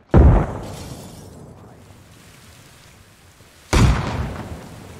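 Two heavy grenade blasts in the ARMA Reforger video game, one at the start and another near the end, each a loud booming burst trailing into debris rumble.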